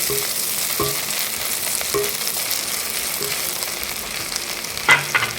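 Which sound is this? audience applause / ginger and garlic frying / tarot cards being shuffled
ginger and garlic frying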